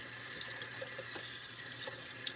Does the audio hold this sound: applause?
no